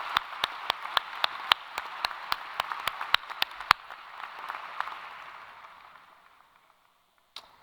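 Applause at a university convocation ceremony for the School of Management and Labor Relations: sharp, evenly spaced claps stand out over a softer crowd patter that fades away, with one last clap after a pause.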